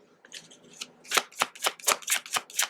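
Tarot cards being shuffled up close: a few soft riffles, then a run of about seven crisp, evenly spaced bursts of flicking card edges.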